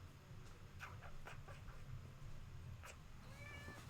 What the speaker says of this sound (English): Look at the angry cat.